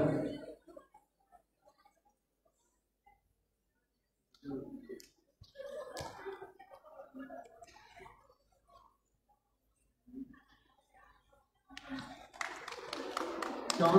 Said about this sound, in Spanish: Comienza los aplausos, fuertes los aplausos.